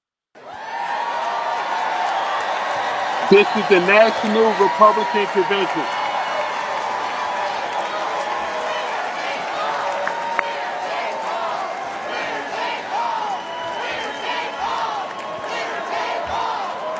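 A large crowd at the Republican National Convention applauds and cheers in a loud, steady roar that fills the whole stretch, with a voice speaking over it and a brief burst of whooping near the start.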